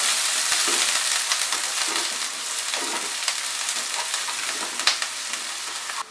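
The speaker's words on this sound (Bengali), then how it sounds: "পেঁয়াজটাকে আমি মিডিয়াম ফ্লেমে ফ্রাই করলাম" Chopped medium-sized onion fries over a medium flame, a dense continuous sizzle with occasional utensil scrapes and small crackles, steady and fairly loud, no talking.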